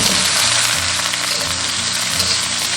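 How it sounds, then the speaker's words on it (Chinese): Cauliflower florets stir-fry in a wok with a little cooking oil, scallion, ginger and sliced garlic. A loud, steady, close sizzle runs throughout with faint scraping of stirring and no voices. "锅中倒少许食用油，加入葱姜蒜炒香。 炒香过后下入花菜。"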